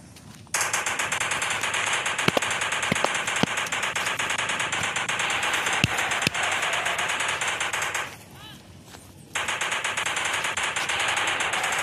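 Machine-gun fire against dinosaurs in the mobile game Indian Bike Driving 3D rattles as a continuous dense burst for most of the stretch, dropping out briefly near the end before resuming, loud and close.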